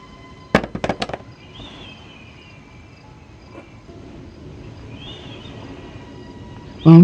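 A bomb explosion in the Granny 2 horror video game: a cluster of sharp crackling bangs early on, then quiet whistling game ambience and a sudden loud burst at the end.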